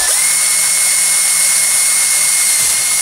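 A power drill with a 3mm bit bores holes for M3 screws in a Tamiya Rising Fighter transmission brace, a loud, steady, high-pitched whine held close and unbroken for the whole stretch.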